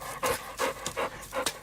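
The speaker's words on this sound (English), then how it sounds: "Dog's in there." A dog pants close by indoors, quick rhythmic breaths repeating steadily about four times, loud and alone with no talk over it.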